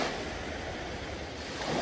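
Ocean waves break and wash along the shore in Pohang, South Korea, a constant broad surf roar mixed with some wind noise, with no voices.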